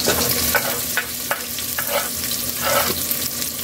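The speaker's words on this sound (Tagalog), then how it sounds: "Ilagay na natin yung bawang natin Kaylee. Isama na rin natin yung sibuyas natin." Garlic and onion frying with ginger in a pan, a constant close sizzle broken by several scraping stirs of a utensil, with no talk.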